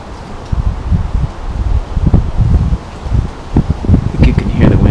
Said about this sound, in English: I think you can hear the wind. It's very, very drafty up here.